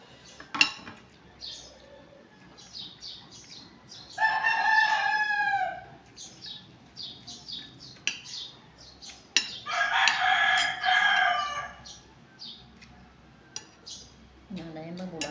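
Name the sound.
rooster crowing, red chicken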